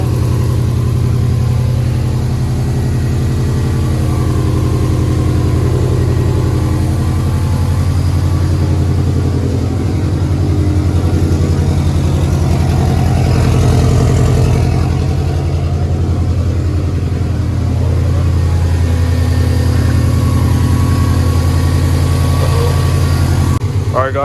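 A 2004 Subaru STI engine idles steadily after an oil cooler install, a loud, continuous low rumble heard up close, with a voice speaking briefly over it.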